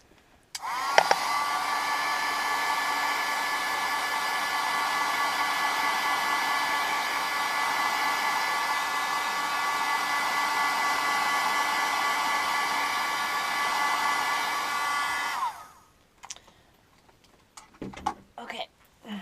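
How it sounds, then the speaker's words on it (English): A heat tool blows a loud, steady whoosh for about fifteen seconds while drying a handmade bokeh card, then cuts out, leaving a few faint handling clicks. "And then I'm going to dry it again with my heat tool."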